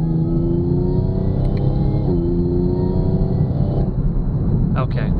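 Steady high whine of an Eaton 1.7L supercharger on a 2018 LGX V6 Camaro, riding above a loud engine drone with rising harmonic tones as revs change, close and continuous.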